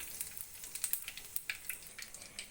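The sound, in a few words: cumin seeds frying in oil for tempering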